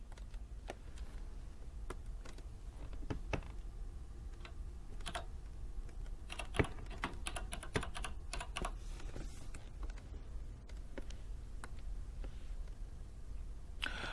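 A cassette name is typed on a Quantel Editbox keyboard: a quick, uneven run of close, crisp key clicks with short pauses between bursts against a quiet room background.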